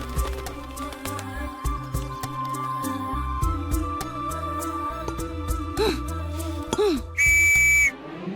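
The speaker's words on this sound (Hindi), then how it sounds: "अभी गलती की सीटी बजा दी।" A single loud, shrill whistle blast sounds near the end and holds for about a second, over busy background music with rising tones.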